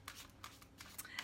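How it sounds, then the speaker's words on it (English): Tarot cards being shuffled in quick riffling bursts, several short crisp flutters spread across the moment, close and fairly quiet with no talking. "Let's give these cards a good shuffle."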